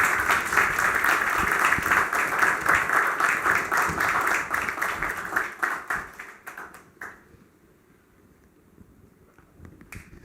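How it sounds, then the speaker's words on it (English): An audience at a book launch event gives a round of applause, dense clapping that thins out into a few scattered claps and fades to quiet after about seven seconds. "give Brian a round of applause"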